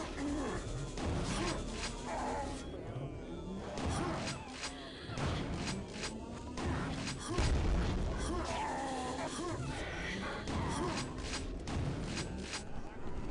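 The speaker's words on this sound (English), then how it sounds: "I'll try another rocket jump here" Rocket explosions boom repeatedly in Quake 2 during rocket jumps, heavy thuds and bursts mixed with game mechanisms and someone talking over the action.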